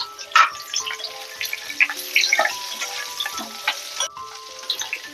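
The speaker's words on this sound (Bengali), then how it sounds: "এবারে সবজিগুলো একটু ভাজা হয়ে গেছে" Mixed vegetables for shukto fry in a pan in a kitchen, giving a light, uneven sizzle with clinks and stirring scrapes. Short tonal rings and sharp knocks come through in bursts, and there is no talk.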